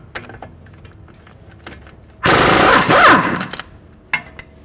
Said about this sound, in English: we're going to hold the head of the bolt and take the nut off